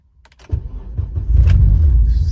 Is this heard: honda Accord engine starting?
yes